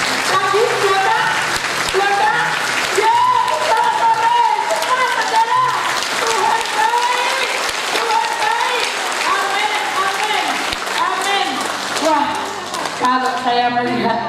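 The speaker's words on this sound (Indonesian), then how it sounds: "Coba yang sini tepuk tangan sendiri." A church congregation at a revival service claps steadily and loudly for several seconds, dense and close, with voices mixed in under the applause.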